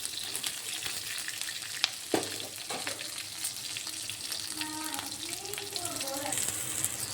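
Green chilies sautéing in oil in a pan, a soft continuous sizzle with a few scrapes of stirring, with quiet talk faintly in the background.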